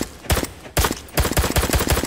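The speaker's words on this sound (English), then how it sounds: "This is the classic pistol to use." Sharp shots from a classic HM9X19 pistol in a zombie video game ring out: two separate cracks, then a quick string of five or six rapid shots, each with a punchy low thump.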